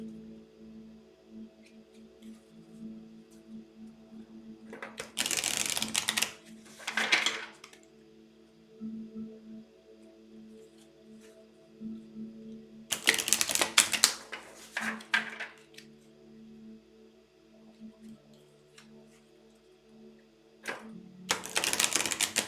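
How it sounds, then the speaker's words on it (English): Tarot cards being shuffled in three separate bursts of rapid, crisp riffling and flicking, close by, with quiet pauses between them. "let me shuffle the cards"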